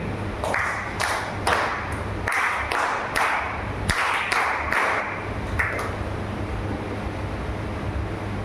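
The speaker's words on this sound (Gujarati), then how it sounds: "3 તાળીઓથી આપણે પ્રભુના સેવકનો આભાર કરીએ" A church congregation claps in a series of sharp, rhythmic bursts, close and fairly loud, over a steady low hum.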